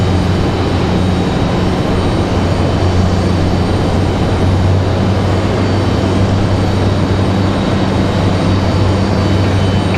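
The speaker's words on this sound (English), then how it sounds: "Looks like we're about to have a CRJ pushback here." A CRJ regional jet sits near the gate at Raleigh-Durham airport during pushback, its engines giving a steady loud low drone and broadband roar that holds throughout, with no talk.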